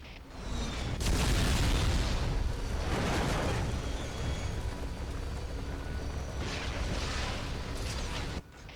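A bomb goes off in the video game 007 Everything or Nothing, a loud, deep rumbling blast followed by roaring debris and further booming bursts before it cuts to quieter background, with no talk.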